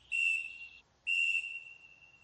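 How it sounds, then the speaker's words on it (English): Small, thin, non-magnetized emergency signal whistle from a military survival escape and evasion kit gives two loud, shrill blasts separated by a short pause, with no talking. "it is also my emergency signal whistle"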